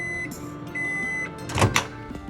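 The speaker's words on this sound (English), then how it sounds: "we're gonna head into our microwave here" A microwave oven heating a sandwich runs with a steady hum, interrupted by a few clunks and a louder burst of handling noise near the end.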